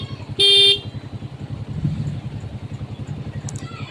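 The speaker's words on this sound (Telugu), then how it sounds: "ఇప్పుడు బైక్ హార్న్ అనేది ఎలాగ పనిచేస్తుందో చూపిస్తాను" A bike horn wired up directly because the original wiring had failed gives one loud, steady honk of under half a second. Behind it a low idling engine keeps a rhythmic drone.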